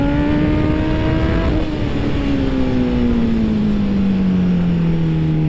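A Honda CB1000 naked motorcycle riding hard on a racetrack, its engine note loud and close, rising then dropping in pitch as it downshifts and comes off the throttle through a corner.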